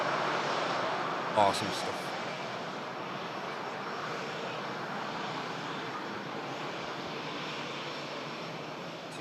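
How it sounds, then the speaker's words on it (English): Boeing 787-9 Dreamliner jet at Manchester Airport heading for the Caribbean, a steady, fairly faint broadband engine roar from a distance running throughout, with a brief spoken comment near the start. "787-9 Dreamliner."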